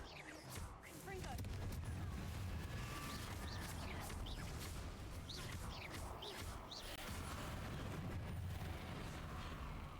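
Confringo fire spells blasting in Hogwarts Legacy, a sustained barrage of booming, crackling explosions with a rumbling roar throughout, fairly quiet overall, with a voice talking over it.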